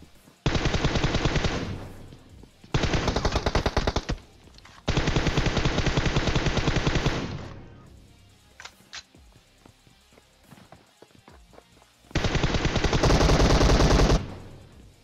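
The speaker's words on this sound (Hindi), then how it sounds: "मैं गोली चला रहा होता हूँ" Bursts of rapid automatic M416 gunfire in PUBG come in several long volleys, separated by pauses with scattered single shots and clicks.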